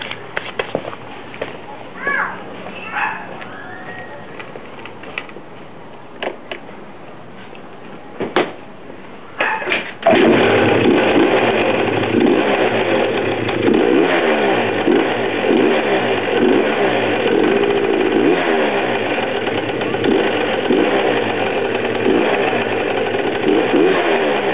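Engine of a Super Vino turns over and fires around the ten-second mark after a few clicks and knocks, then settles into a steady, loud, close idle that runs without a break.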